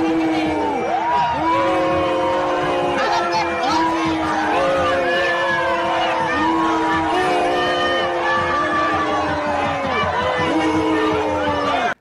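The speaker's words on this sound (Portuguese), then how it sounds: "E quando o casal marginal chegou sem querer perto do povo de verdade, vieram as vaias" A large crowd at a party in Bahia boos Lula and Janja, with many overlapping voices drawing out falling, sustained boos loudly and continuously throughout.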